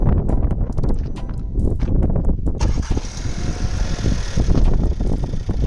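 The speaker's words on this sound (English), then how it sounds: "we're just going to start up the car, get a couple of revs at you guys" A SEAT Leon 1.4 TSI engine with an upgraded intake and air filter runs loud and close, a rough, tractor-like idle rising into revving with a broad rushing roar.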